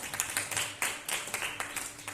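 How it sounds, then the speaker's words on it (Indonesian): A teachers' group clapping after a video at a school workshop, a small audience heard faintly as a steady patter of hand claps, somewhat distant. "Tepuk tangannya dong untuk video kita."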